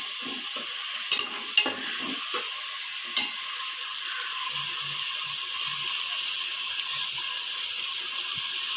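Masala going into a pan of sizzling cooked tomatoes for chicken curry, a steady loud frying hiss with scattered stirring scrapes and light clinks from a spoon against the pan.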